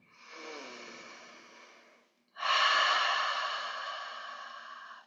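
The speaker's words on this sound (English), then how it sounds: "Breathing 3 times" Slow deliberate breathing from a guided breathing exercise, one long airy inhale and then a louder, fuller exhale, close to the microphone with no talking.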